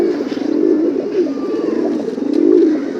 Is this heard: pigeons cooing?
yes